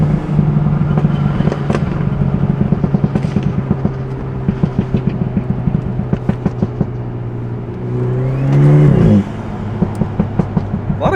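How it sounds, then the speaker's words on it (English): A BMW 328i fitted with an axleback exhaust, resonator delete and secondary cat idles with a steady low drone, then revs sharply near the end before settling back, loud and close with no talking. "A lot of cool noises coming from this car."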